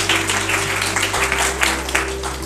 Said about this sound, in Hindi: उसके बाद हमारे सीएमडी सर के लिए एक बार जोरदार तालियां होनी चाहिए